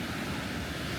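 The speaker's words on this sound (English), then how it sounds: "made it to a pretty cascade waterfall." Cascade waterfall on the Blue Lake Trail in Colorado, a steady broadband rush of falling water, fairly faint and unbroken, with no voices.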